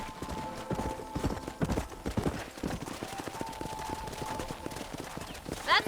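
Steady clip-clop of horse hooves trotting at an even rhythm in the video game Red Dead Redemption, with a faint musical tone underneath and a brief jingle near the end.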